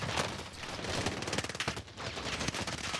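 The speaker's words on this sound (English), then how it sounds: "that guy was shooting at me from up top" Rapid automatic gunfire in Call of Duty Warzone on Rebirth Island, a dense stream of close, crackling shots with brief gaps, loud and continuous throughout.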